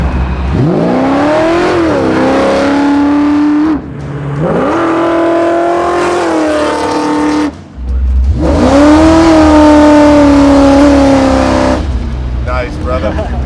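A garage-built supercharged stroker Mustang drag car engine pulls hard in three loud, rising runs, each climbing in pitch with a brief drop between them, close and dominant.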